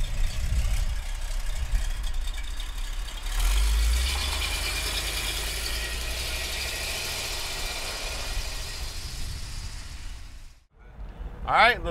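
A 1973 Plymouth Barracuda with a 440 V8 idles steadily with a deep, low rumble, swells briefly, then drops off near the end as a short burst of other noise cuts in.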